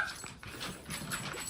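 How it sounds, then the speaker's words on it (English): A dog pants in quick, breathy bursts with faint whimpers, close and fairly soft, ending in a sharp louder sound. "Crazy dog. What are you doing here?"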